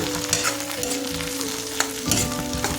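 Chopped brinjal frying in hot oil in a kadai sizzles loudly and continuously up close, with scattered scrapes and clicks of stirring and a faint steady hum underneath.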